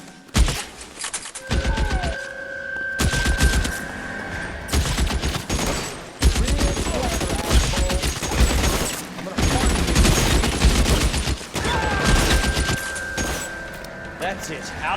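L.A. Noire gunfire in a shootout, fired until the gun runs out of ammo: a loud, close sequence of shots and bursts that recurs across the stretch, with pauses between volleys and some voices in the mix.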